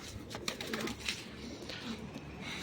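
Pigeons coo softly close by, low burbling calls repeating and overlapping against a faint background hum.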